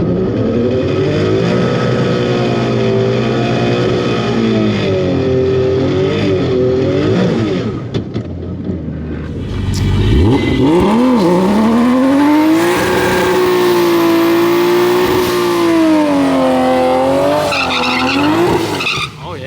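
A Barra-engined Ford Mustang GT350 revs hard at a drag strip, drops out briefly, then roars off the line with tyre squeal, its engine note climbing and wavering loudly close by before fading toward the end.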